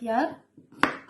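A kitchen knife cuts cucumber into small squares for a Capercaillie's Nest salad, giving one sharp, close chop after a short voiced sound and a brief pause.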